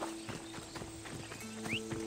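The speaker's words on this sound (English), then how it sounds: "I hear a horse footstep" Soft clip-clop of horse hooves stepping at a steady walking pace in the video game Assassin's Creed Odyssey, with a faint whinny-like tone and a low background hum.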